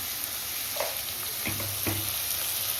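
Onions fry in a pan until reddish-brown, a close, even sizzle with a few faint stirring clicks, heard alone without talk.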